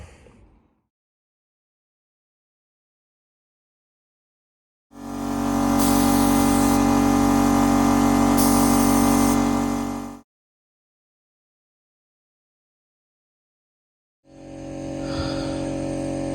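A paint spray gun applies grey paint to car panels on a farm. It makes a long, steady, loud hiss lasting about five seconds, goes silent for a pause, then starts another burst of spraying.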